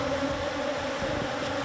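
Bees swarm around a forest honey hive, their dense, steady buzzing holding close and continuous throughout, with no voices over it.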